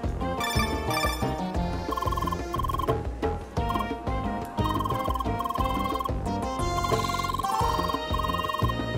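A phone ringing in the video game CrossCode, repeated bright electronic ring tones over busy game music, loud and close, with no talking.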